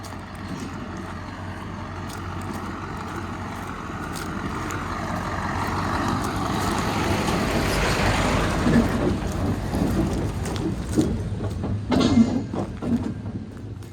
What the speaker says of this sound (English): one of the timber lorries turning up to pick up these sacks of timber